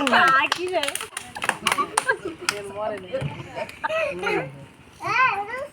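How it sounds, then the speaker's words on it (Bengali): Village children clap their hands in a quick burst of sharp, close claps early on during a game of stacking glasses and plates. Excited kids babble and an adult voice talks over and after the clapping. "সাব্বিরের জন্য একটা হাতে তালি সবাই।"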